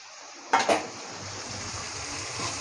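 Taki fish goes into a pan during bhuna cooking: two quick metallic clanks of a utensil against the pan, then a steady, soft frying hiss that continues to the end.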